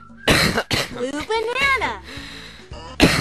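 A person coughs and clears their throat in a few loud, harsh bursts, mixed with a short stretch of spoken words in between.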